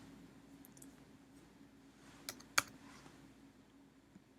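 Faint, sparse keystrokes on a computer keyboard while entering input in Mathematica, with a couple of sharper clicks in the middle against a quiet room hum.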